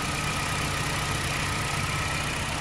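A Toyota Corolla Altis with a 1ZR engine idles just after starting, following a head gasket job, and keeps up a steady, even hum with no talk over it.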